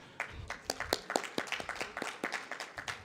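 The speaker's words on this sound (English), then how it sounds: "Please clap for yourself." Audience at a migrants day debate final clapping together, a brisk run of scattered, fairly close hand claps of moderate loudness, with no speech over them.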